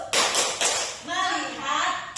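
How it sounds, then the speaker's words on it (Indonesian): A classroom group does a rhythmic focus clap: a couple of sharp hand-clap bursts lead straight into a spoken chant from several voices, all close and fairly loud. "Tepuk fokus."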